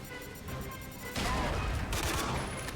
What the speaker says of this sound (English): Power grenade. Try that.